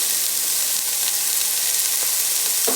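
Onions or carrots sizzling in a hot soup pot, a loud, even hiss of frying with faint crackles, close and continuous from start to finish.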